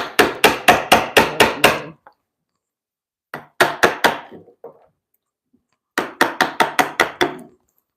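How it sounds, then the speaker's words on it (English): Sharp chisel struck with a mallet to cut a timber mortise, three bursts of rapid sharp knocks on wood, about six or seven blows each, separated by short pauses. "This is a nice sharp chisel."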